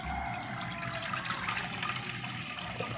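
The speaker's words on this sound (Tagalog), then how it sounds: "Maglalagay lang tayo dito ng tubig mga kabaro" Water pours in a steady, continuous stream, splashing into a cooking pot at close range without pause.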